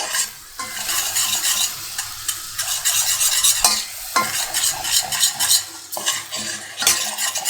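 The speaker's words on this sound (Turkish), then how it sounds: "Şimdi kavuruyorum. Beşameli yaparken sürekli karıştırmak önemli." Flour and butter roasting in a pan for béchamel, stirred continuously with a utensil: close, busy scraping and clinking strokes over a light sizzle, with brief pauses between bursts of stirring.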